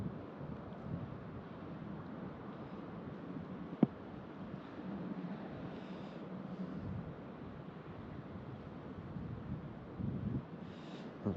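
Wind blows across an open canal in a continuous rough buffeting roar with small gusty swells and one sharp tap, and no one speaks.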